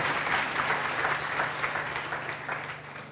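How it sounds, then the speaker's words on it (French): Steady, loud applause from a church congregation fills the whole stretch without a break, honoring a bishop emeritus during a parish jubilee celebration at Saint Joseph Époux in Ehania. "que je demande qu'on acclame un peu"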